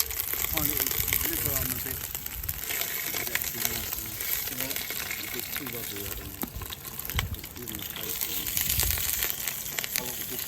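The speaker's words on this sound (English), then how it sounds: "Leave that to sear for a few minutes." Partridge and pheasant searing in a pan at an outdoor camp: a steady, close crackling sizzle running throughout, with someone talking over it.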